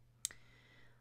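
A single sharp computer mouse click, close and crisp, followed by quiet room hum with no talk.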